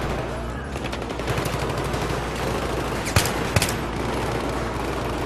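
The player's automatic weapon firing in the Battlefield 3 campaign mission Operation Guillotine, a sustained loud rattle of rapid shots with two sharper cracks standing out near the end.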